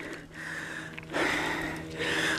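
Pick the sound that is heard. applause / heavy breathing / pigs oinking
heavy breathing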